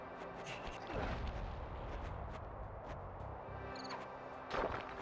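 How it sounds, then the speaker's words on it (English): Dynamite-looking fireworks going off in the Sly Cooper video game, giving a couple of muffled booms with rumbling game ambience between them, moderately loud. "time to light up some dynamite-looking fireworks here"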